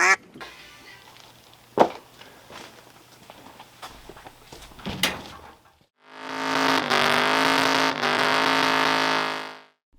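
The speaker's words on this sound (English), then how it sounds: "And the belt squeaking. You can probably hear it." An engine belt squeals on a Ford Galaxie: a loud, sustained, strained squeak lasting about three and a half seconds, preceded by quieter clunks and rustling.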